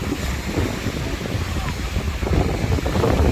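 Strong typhoon winds from Maring and Nando roar across Manila Bay as waves churn and crash, a continuous loud rumble of gusts buffeting the microphone over surging water.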